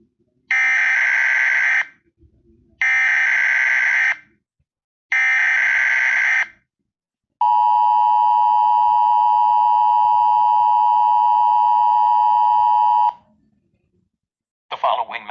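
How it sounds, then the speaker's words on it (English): Emergency Alert System attention tones from a fan-made attack scenario: three loud, evenly spaced harsh buzzer bursts, then a long steady two-tone alert of about six seconds, ending abruptly. "Please stand by for a message from the EAS."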